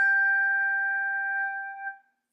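A G6 handbell chime and a G5 handbell struck together at a handbell workshop give one bright, steady two-note ring that sustains for about two seconds, then fades out, heard alone.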